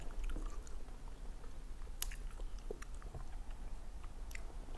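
Shredded squid jerky snack, hot and spicy style, being chewed up close: continuous moist, squishy mastication with occasional sharper bites, steady throughout with no talking.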